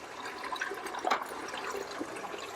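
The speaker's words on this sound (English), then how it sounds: "we're going to open all of the drains" Water drains from the wash tank of a Power Soak commercial pot-washing sink, a steady soft gurgling rush with a brief louder splash partway through, heard alone at moderate distance.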